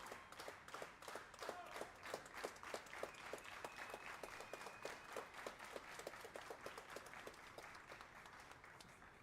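Crowd at a padel match in Bangkok applauding, a steady patter of many hands clapping for several seconds, moderately loud with a faint tone running under it.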